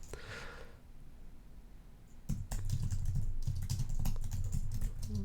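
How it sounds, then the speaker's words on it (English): Keys clatter as code is typed on a computer keyboard, quiet at first, then a steady close run of clicks and taps with a low background rumble. "let me type this out and explain to you what it's doing."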